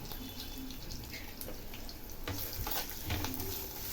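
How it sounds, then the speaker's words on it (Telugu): Green chillies and curry leaves sizzle steadily in hot tempering oil for pulihora, a dense continuous crackle with small pops and no talk. "ఇప్పుడు పచ్చిమిర్చి, కరివేపాకు కూడా వేసుకొని వేగించుకుందాం"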